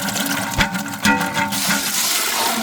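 Water pours steadily and close over soaked chickpeas in a kitchen, a continuous splashing rush with a few brief dips and surges.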